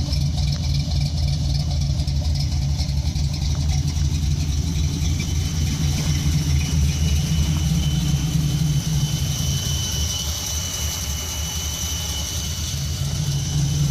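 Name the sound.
car engine idling with a Hughes whiplash cam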